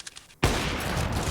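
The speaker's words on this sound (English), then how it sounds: "Nice shot for Alu" Gunfire in a Counter-Strike match on Dust2 during a professional esports tournament: a sudden loud, close shot bursting in and sustaining as a dense crackling blast.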